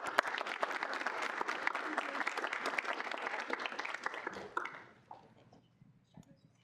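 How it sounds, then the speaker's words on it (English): A student senate meeting audience gives a round of applause after a presentation, with brisk, dense clapping for about four seconds before it thins to a few scattered claps and quiet room noise. "let's give them a round of applause"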